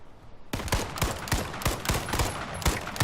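Rapid gunfire from the battle royale video game H1Z1, a burst of sharp, loud shots starting abruptly and repeating in an uneven rhythm, close up and without talk.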